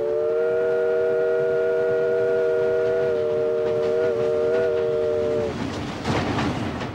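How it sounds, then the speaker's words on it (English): An American train of the Civil War era sounds a long, loud, sustained whistle for about five seconds, then cuts off into rumbling, clattering rail noise. "the train."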